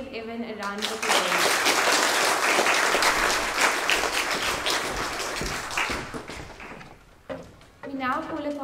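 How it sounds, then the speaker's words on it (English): Enthusiastic applause fills a hall at a school Grade 6 prize-giving ceremony, dense clapping from a large audience lasting several seconds before fading, with a voice speaking briefly at the start and end. "Please could we give Evan a round of applause."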